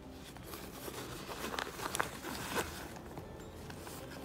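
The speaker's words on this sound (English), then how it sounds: "A zipper." A zipper on a Burberry leather purse is pulled open in a quiet room: a soft, scratchy run of small clicks with a few sharper bursts, fairly close to the microphone.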